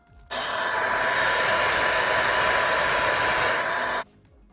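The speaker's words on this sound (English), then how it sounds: "I've seen other people use a blow dryer, so I figured I would too" A hair dryer, an old worn unit, blows in a steady loud broadband rush for about four seconds, switching on abruptly and cutting off cleanly with near silence before and after.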